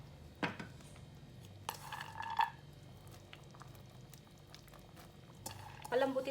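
A pot of turkey soup with mushroom and corn bubbles at a boil, a low continuous simmering burble broken by a few clinks of a utensil against the pot, close and fairly quiet.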